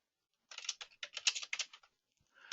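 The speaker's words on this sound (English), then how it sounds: "I'm just typing this stuff in here" Someone types quickly on a computer keyboard in short bursts of crisp, close key clicks separated by brief pauses, with no talking.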